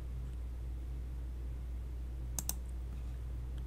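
A computer mouse gives two quick close clicks in a quiet room over steady low background hum.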